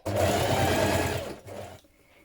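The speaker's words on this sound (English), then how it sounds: "you're going to edge stitch on all the top yoke pieces like this, 2 to 3mm away from the seam edge" Sewing machine edge stitching the top yoke pieces of dungarees 2 to 3 mm from the seam, a loud close motor whirr with rapid needle rattle that runs steadily, briefly dips, resumes, then stops.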